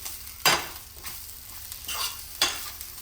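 Sizzling and crackling from onions frying in a pan for chutney, with a few louder bursts as they are stirred, close and steady with no talking.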